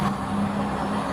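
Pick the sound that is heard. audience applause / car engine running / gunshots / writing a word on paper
car engine running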